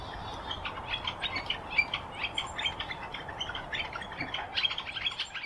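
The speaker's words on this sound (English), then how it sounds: "referring to its wicka wicka wicka call" A northern flicker gives a rapid series of repeated wicka-like calls, a fast rhythmic string of bright notes at moderate distance over quiet outdoor background.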